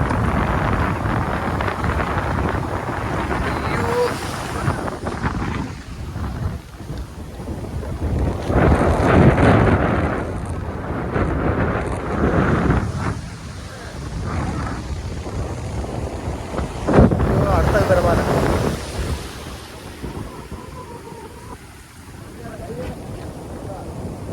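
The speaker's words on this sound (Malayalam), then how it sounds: "തിരമാല വരുന്നത്" Sea waves break on the shore at the Idinthakarai fishing beach, a loud rolling wash with periodic surges, mixed with wind rumble on the microphone and someone speaking.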